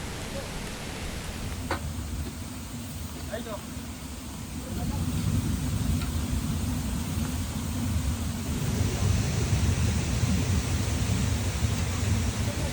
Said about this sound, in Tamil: அந்த சைடு அருவி தண்ணி இந்த சைடு மழை தண்ணி